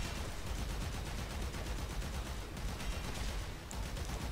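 Gunfire aimed at a stasis field in the video game Warframe: a dense, steady stream of rapid shots under a constant roar, fairly loud and unbroken.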